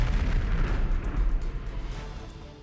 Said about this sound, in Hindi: धमाका इतना तेज था कि घरों के शीशे तक टूट गए।